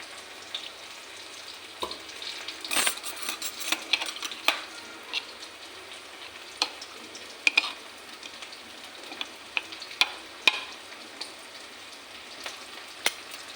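Onions and garlic fry in a pan for a koi fish and tomato curry: a soft steady sizzle with scattered sharp crackles and intermittent stirring scrapes, close by, with no talking.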